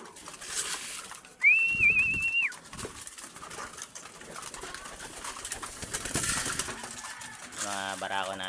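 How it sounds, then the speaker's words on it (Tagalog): Pigeons in a coop give a rising, warbling whistle-like coo, loud and close for about a second, then softer bird calls and shuffling fill the rest, with a voice speaking faintly near the end. "Mga barako nating kalapate."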